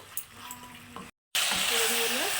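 Chicken sautéing in oil in a pan for white chicken korma, a steady sizzle that cuts out briefly and returns louder, with stirring scrapes and light background sounds.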